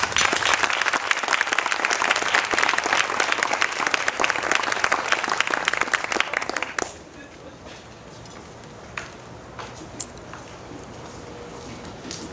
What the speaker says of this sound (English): Thank you so much for that hand clap.